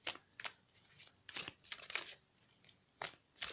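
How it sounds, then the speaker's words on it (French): Tarot cards being shuffled for a reading, a series of crisp riffling and flicking bursts in an uneven rhythm, close and fairly quiet, with no talk over them. "On va tirer maintenant une carte des maîtres ascensionnés."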